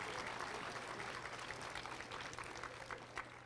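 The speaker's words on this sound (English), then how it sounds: "And let's give these folks a round of applause." An outdoor crowd at an anti-violence walk and candlelight vigil claps together for a group of people. The applause is soft and distant, a steady patter with a low hum underneath.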